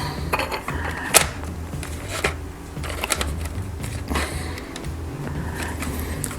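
Aluminium drink cans and lids for a homemade alcohol stove being handled and set under CD cases, giving close, irregular metallic clinks, taps and rattles with sharp knocks, and no voices.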